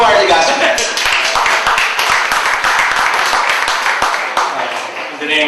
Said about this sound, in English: a round of applause please for